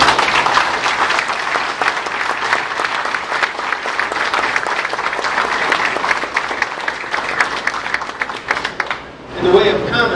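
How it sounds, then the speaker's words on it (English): An audience gives a sustained, loud round of applause welcoming home Dr. Sarah Scarbrough at a Richmond City Jail study event, steady clapping filling the room for about nine seconds before fading, with a voice starting at the end. "I know that you want to join me in giving her a welcome home round of applause"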